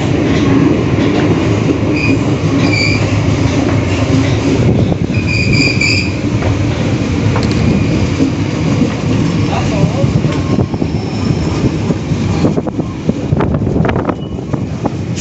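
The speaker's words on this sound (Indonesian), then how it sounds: "saya bersama kereta api Cikuray tiba di stasiun Karawang" The Cikuray passenger train rumbles steadily along the rails as it approaches Karawang station in Indonesia. Brief squeals early on and buffeting wind sit over the loud, continuous running noise, with faint voices in places.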